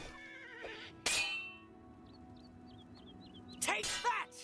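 A horse neighs in Oblivion's Knights of the Nine, giving two loud whinnies several seconds apart, with softer game sounds and short chirps in between.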